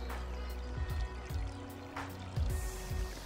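A small garden waterfall spills into a backyard pond, giving a steady close trickle with bubbling, dribbling water and a few brighter splashes.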